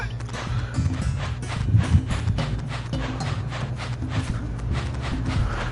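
Cows being herded in the video game Jak and Daxter, their hooves making continuous quick clip-clop steps over a steady low background score, with a few heavier thuds.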